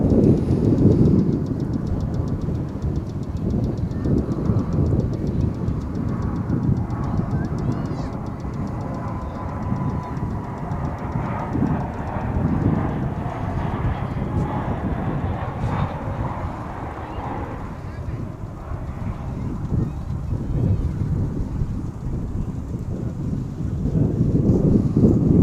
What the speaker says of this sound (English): We've got a United Airlines plane coming in.